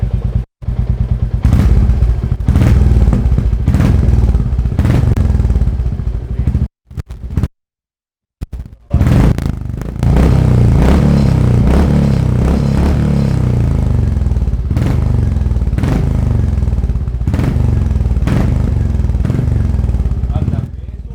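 Royal Enfield Meteor motorcycle fitted with a performance silencer, running loud and close with a deep, steady thumping exhaust beat and occasional revs, cut by a brief silent gap partway through.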